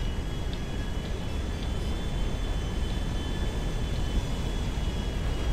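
Airplane flying in GTA V with a Naruto mod, heard as a steady, loud broadband engine roar with a faint constant tonal whine, continuous and unbroken from start to finish.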